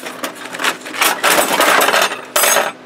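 Sawzall blades clatter and jingle as a hand digs through a crowded case of them, giving a close, busy run of metallic clinks and rattles with no voices.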